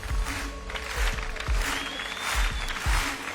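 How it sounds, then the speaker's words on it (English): A large crowd cheers and applauds Tour de France riders parading through Tivoli in Copenhagen at the 2022 team presentation. The broadband roar is steady and loud, with low thumps scattered through it and a faint high whistle partway in. "a massive crowd cheering them on"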